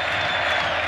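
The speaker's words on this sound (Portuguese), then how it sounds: "Torcedor aplaude" Tricolor football fans applaud at the Maracanã during a Libertadores night, a dense, steady wash of clapping from a large stadium crowd with no pause.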